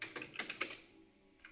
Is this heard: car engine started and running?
no